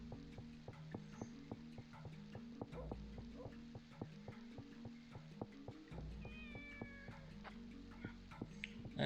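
In the Shenmue video game a cat meows several times, short close mews over a rhythmic background of steady clicking taps, fairly quiet overall.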